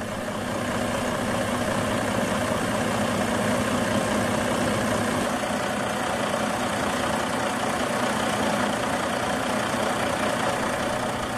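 2013 Western Star 4900SF truck with a Detroit DD16 600-horsepower diesel running at a steady idle, a continuous loud, close rumble with no talk.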